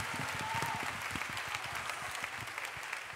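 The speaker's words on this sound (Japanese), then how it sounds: "大きな拍手" Steady applause from a crowd at a Japanese rap battle event, dense clapping that holds at an even level throughout without voices.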